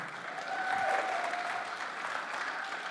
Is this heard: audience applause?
yes